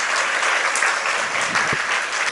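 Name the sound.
congregation clapping loudly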